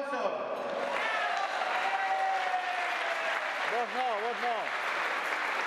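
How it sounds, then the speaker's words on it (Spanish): Crowd applause at a neighbourhood patronal festival for San Miguel Arcángel, sustained clapping under a brief spoken remark, with a whistle rising and wavering through the middle. "¿Le damos un fuerte aplauso?"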